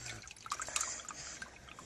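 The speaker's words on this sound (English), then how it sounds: "I'm going to pour a little bit of that in there." Raw milk pours briefly into a bowl in a short, soft liquid trickle with a few drips, close and quiet.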